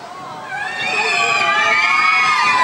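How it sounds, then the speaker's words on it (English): A large crowd, many of them children, screams and shrieks as a dragon arrives, the noise swelling louder midway and staying high and shrill, with excited voices mixed in. "You watch them screaming."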